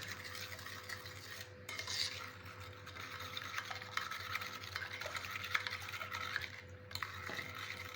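Donut glaze being mixed with milk in a bowl, giving a continuous soft whisking and scraping that runs through the clip. The clinks are faint and fairly close, with a brief pause partway through.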